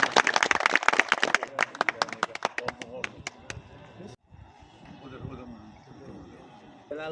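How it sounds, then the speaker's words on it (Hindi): Crowd at a political rally claps in a burst of sharp, fairly loud handclaps that thin out after a few seconds, followed by voices and the murmur of a crowd. "तालियां इनके लिए भी।"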